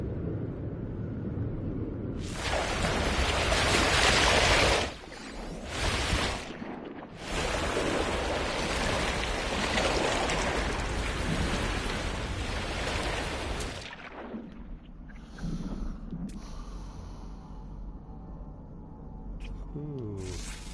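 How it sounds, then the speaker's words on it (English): Storm on a planet in No Man's Sky, a heavy roaring rush of wind and surf-like noise that surges loudly for long stretches, drops out briefly, then fades into quieter rumbling and scattered game sounds. "It's stormy."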